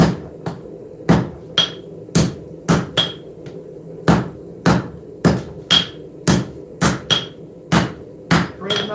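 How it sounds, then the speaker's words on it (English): Blacksmithing hammer striking a knife blade on an anvil during forging, about seventeen sharp metallic blows in a steady rhythm, close and loud, some with a bright ringing tone. "It's not a framing hammer, it's a blacksmithing hammer."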